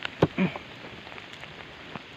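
Rain falls steadily near a collapsing deep well, a soft continuous hiss broken by a few sharp close drips and splashes.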